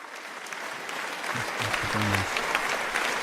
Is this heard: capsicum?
no